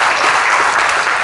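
An audience at a Grand Prix of Long Beach press conference claps steadily, a dense, even patter of applause throughout.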